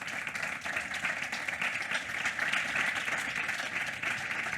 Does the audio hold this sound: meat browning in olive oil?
no